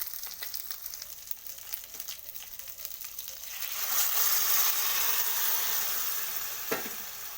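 Fried fish head and moong dal are stirred in a pan. Light scraping and clatter come first, then the sizzle swells into a louder, steady frying hiss about midway, and a sharp knock sounds near the end.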